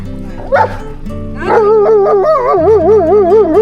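Close, loud dog vocalizations: a sharp bark followed by drawn-out, wavering yelps and a howl-like whine, in a household setting in the Konkan region.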